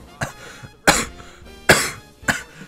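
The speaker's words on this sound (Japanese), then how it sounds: "咳止まんないんですけど" A person recovering from COVID coughs four times, sharp and close, with short gaps between the harsh bursts and no talk over them.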